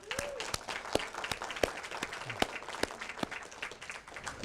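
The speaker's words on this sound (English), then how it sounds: "Give them a round of applause," A small audience applauds at a local event: scattered, fairly faint clapping with a few sharp individual claps standing out and a brief voice near the start.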